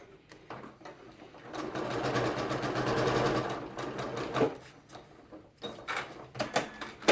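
A sewing machine stitches cotton fabric in a fast, even burst of needle rattle that speeds up and holds for a few seconds, then slows into scattered short runs and stops, close and clear with no talk.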